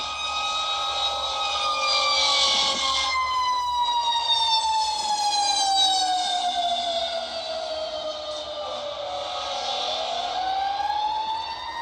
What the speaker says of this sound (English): From morning to night, I hear ambulance and fire trucks.